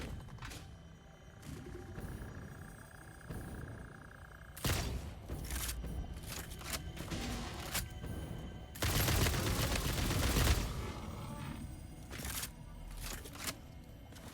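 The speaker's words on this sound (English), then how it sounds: "homing rifle is amazing" Gunfire from a homing rifle in the video game Satisfactory, several sharp bursts and thumps at irregular intervals, with a long dense volley near the end, heard over quiet game ambience.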